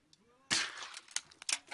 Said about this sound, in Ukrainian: Три постріли і три дірки в трубці розвідника.